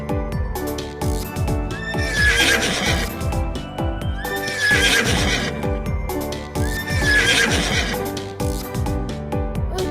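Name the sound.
horse neighing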